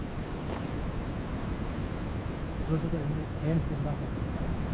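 Sea waves surge beside the rampart walls of Galle Fort in Sri Lanka as a continuous, steady wash mixed with wind noise. A voice speaks faintly partway through.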